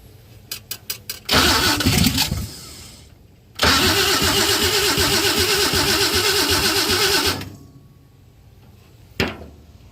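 A 1952 Chevy engine cranks with a few quick starter clicks, catches and runs briefly, dies, then fires again and idles roughly for several seconds before shutting off, with a short sharp burst near the end.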